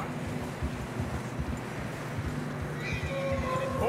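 Horses in Red Dead Redemption 2 plod heavily through fresh snow with muffled steps and snorts under steady wind, and a short whinny rises near the end.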